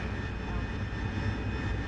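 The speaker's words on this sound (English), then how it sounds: "It's a beautiful plane. It's a Spitfire." A Spitfire's engine drones steadily in a flight-sim game, a continuous loud low rumble with no change in pitch and no talk over it.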